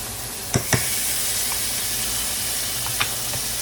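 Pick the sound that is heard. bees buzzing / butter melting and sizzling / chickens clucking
butter melting and sizzling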